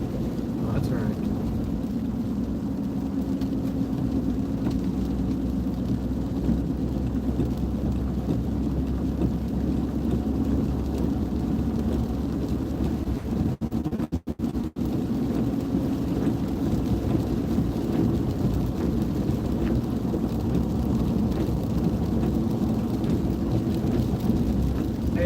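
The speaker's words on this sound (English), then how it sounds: "We weren't even supposed to get rain today." Steady rain pours outdoors near a ball field's outfield, with a dense continuous wash and low rumbling like distant thunder, while people talk over it throughout.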